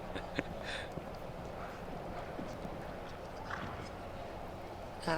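Horse hooves clip-clopping on the arena surface during a show jumping round at a Longines FEI Jumping World Cup event in Las Vegas, faint and steady beneath continuous commentary talk and crowd ambience.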